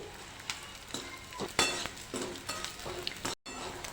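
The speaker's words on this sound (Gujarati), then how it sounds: "હવે આપણે તેમાં ગુંદરને શેકી લઈશું થોડો થોડો કરીને આપણે ગુંદરને શેકી લેવાનો છે ઘીમાં શેકી લઈશું" Pieces of edible gum frying in hot ghee in a pan, a soft steady sizzle with scattered stirring clinks and scrapes of a spoon against the metal, close by and with no voices.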